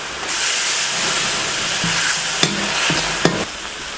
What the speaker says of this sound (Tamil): மிளகாயை நல்லா வதக்கிக்கணும்.